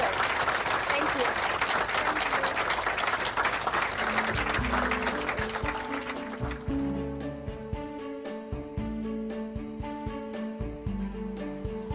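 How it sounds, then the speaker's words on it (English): A crowd applauds the women of the Hub Community Kitchen, loud and dense clapping that gradually thins into scattered claps over the last seconds, with voices and some music rising underneath. "Another round of applause for the women of the Hub Community Kitchen"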